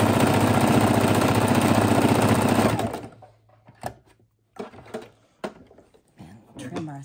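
A sewing machine runs fast and steadily for about three seconds, stitching a fabric piece down on a fidget quilt, then stops, leaving quieter handling noises and a voice talking afterward.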